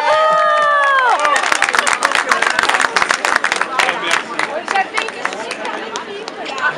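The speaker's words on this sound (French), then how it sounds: "On les applaudit fortement." A studio audience at a MasterChef cooking competition applauds the teams, with dense clapping and crowd chatter following a brief musical sting at the start, holding loud and then gradually thinning.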